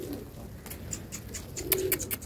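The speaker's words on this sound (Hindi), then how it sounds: "ये देखें ये रंगों वाले कप्तान जी के सारे कबूतर हैं" Captain Ji's colourful pigeons coo softly in a low, murmuring rhythm, with a few brighter chirps and taps rising near the end.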